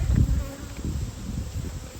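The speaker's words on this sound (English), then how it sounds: "There's a lot of bees in there." Bees swarm in an open-air hive being removed, a steady close insect buzz with a louder low-pitched surge near the start, continuing dense and unbroken throughout.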